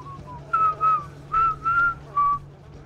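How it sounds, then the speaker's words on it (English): Sims characters in The Sims for GameCube whistle a bright melodic tune in five short phrases, fairly loud over a low steady hum. "The Sims just like whistle all the time. It's so loud."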